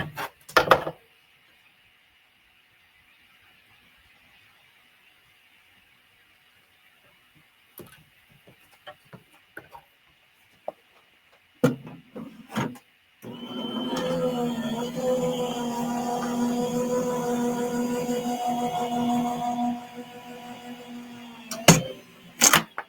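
A die-cutting machine runs paper and a small stitch die through its rollers, a steady mechanical grinding rumble lasting several seconds after a few handling clicks and taps, close and fairly loud.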